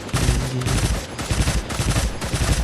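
Rapid bursts of gunfire in the Cyber Hunter battle game, loud and close, with shots rattling almost continuously across the whole stretch and only a brief thinning midway.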